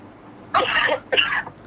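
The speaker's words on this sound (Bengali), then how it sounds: "জোরে কাশি দেন" A patient coughs hard twice during a physiotherapy pain examination, two short forceful bursts close to the microphone with a brief pause between them.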